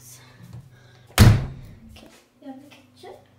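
A back door in a grandfather's house swings shut with one loud, close slam and a short boom, with soft speech and household noise before and after it.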